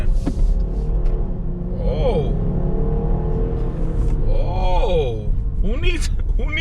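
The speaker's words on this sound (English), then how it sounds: "this sport mode really yanks on you" A 2021 Dodge Durango SXT Plus SUV engine droning and pulling harder under acceleration in sport mode, heard from inside the cabin, with people talking excitedly over it.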